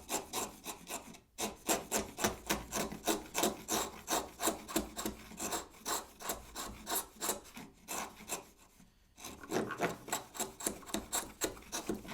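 Wood waste is pared away with a chisel and a router, making a steady, close scraping and rasping that pulses rhythmically in back-and-forth strokes with a few brief pauses, and no one speaks.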